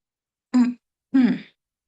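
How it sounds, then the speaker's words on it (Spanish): Two short, harsh throat-clearing coughs close to the mic, about half a second apart, then silence. "discúlpenme que estoy tosiendo"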